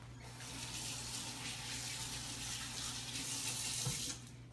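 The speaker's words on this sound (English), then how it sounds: "rinsing the hands off" A kitchen faucet runs steadily as hands are rinsed during baking, a soft continuous hiss of water that stops abruptly near the end.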